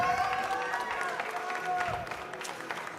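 An audience applauds at a French barista championship for coffee and spirits. The clapping is steady and mid-level throughout, with a voice speaking over it.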